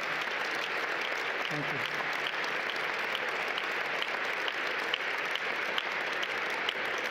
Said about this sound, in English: I'd like everybody to just give her a big round of applause for her dignity.